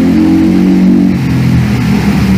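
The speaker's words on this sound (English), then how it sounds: "there's a lot of cars motorcycles going past by like noisy one like this one right now" A noisy car or motorcycle passing by outside, a loud close engine hum that swells and then shifts lower as it goes past.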